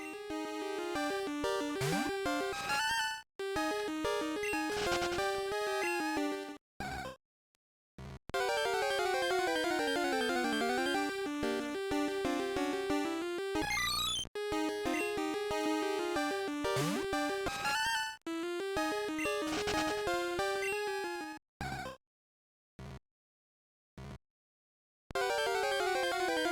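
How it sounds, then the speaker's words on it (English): Eerie, warbling radio signal from Pokemon Crystal, chiptune tones sliding and wavering in loops with brief silent gaps, loud and continuous with no talking. "This radio sound is the spooky sound you hear in Dead Silver"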